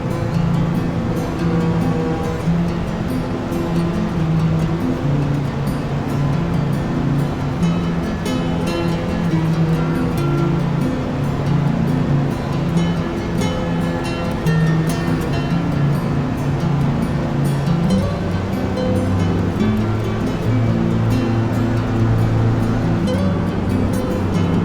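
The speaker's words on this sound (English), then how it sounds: "I believe those are the famous Class 4 rapids" Class 4 river rapids near Yosemite rush in a steady, loud broadband roar that holds without a break throughout, with no voices over it.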